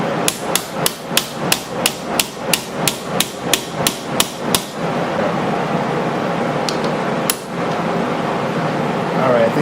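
A hammer strikes the small pins of a slip joint lock back pocket knife being modified at a workbench, about fourteen sharp, evenly spaced blows in quick rhythm, then a lull with one last hit, over a steady fan hum.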